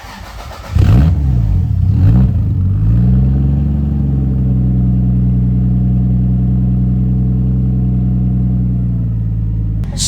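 1987 Toyota Supra engine catching, revving up loudly, then settling into a steady, close, droning rumble that holds at an even pitch with no talk over it.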